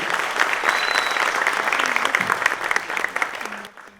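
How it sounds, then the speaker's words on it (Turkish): Steady applause from an audience at a student scholarship event, loud and sustained as a speaker is invited to the podium, tapering off at the end. "dernek başkanımız Sayın Murat Direği alkışlarınızla kürsüye davet ediyorum."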